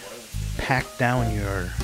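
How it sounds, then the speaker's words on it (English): Steady sizzle of garlic chicken frying in a hot pan, continuous hiss with bursts of voiced sound over it, fairly close and moderately loud. "Should be hearing a nice good sizzle going."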